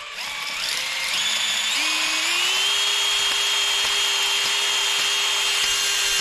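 A power drill polishes the bore of a big-block crane engine outdoors in the woods: a loud, continuous motor whine that climbs in pitch as it spins up, then holds steady with a gritty scraping edge.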